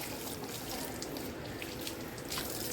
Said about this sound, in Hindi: अब ये पानी गंदा आ रहा है, अब जब तक हम इसको चलाएंगे नहीं, साफ पानी नहीं आएगा